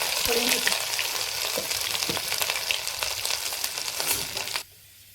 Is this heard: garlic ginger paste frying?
yes